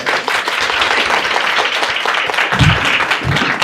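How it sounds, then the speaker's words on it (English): An audience at an International Women's Day event applauds, with loud, steady clapping from many hands and a few heavier claps near the end. "another round of applause for Lisa"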